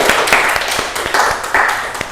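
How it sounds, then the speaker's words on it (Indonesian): A small group in an Indonesian classroom session gives a short round of hand clapping. The claps come loud and uneven in several bursts. "Tepuk tangan buat Mbak Fatimah."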